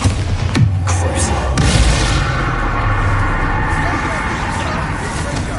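A Bombarda blasting spell going off in Hogwarts Legacy, a loud boom early on followed by rumbling combat noise, with a voice speaking over it.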